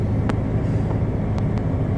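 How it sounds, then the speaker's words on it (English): A car engine idles after a head gasket repair, a steady low rumble close by with no one speaking and a few faint clicks over it. "The car is on."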